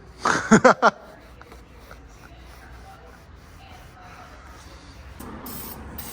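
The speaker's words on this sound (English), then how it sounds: "Limited edition Mickey Thompson spray lube." Several quick bursts of Mickey Thompson spray lube hiss from an aerosol can near a Ford, short sharp sprays in a rapid cluster, followed by quiet rustling and handling noises.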